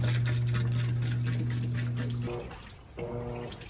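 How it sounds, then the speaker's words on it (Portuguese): An Electrolux washing machine fills and rinses, with a steady mechanical hum and the wash of water inside the drum. The tone drops out briefly near the end, then the hum and water resume. "Máquina no enxágue."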